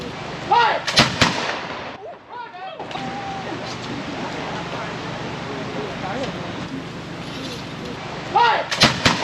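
Soldiers fire a round from their guns: a loud sharp blast near the start and another near the end, with crowd murmur in between.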